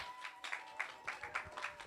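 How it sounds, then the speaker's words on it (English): Faint, distant clapping from an audience at a Night Out Against Crime community event in the Virgin Islands, a thin run of claps with a steady, regular rhythm and no voices over it. "Let's give them a round of applause for the hard work they put in tonight."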